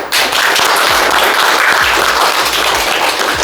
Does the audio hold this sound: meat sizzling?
no